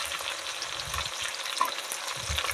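Potatoes frying in a pan, a continuous close sizzle with soft stirring scrapes and a low rumbling undertone, moderately quiet and without speech.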